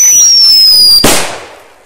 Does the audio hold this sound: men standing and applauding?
no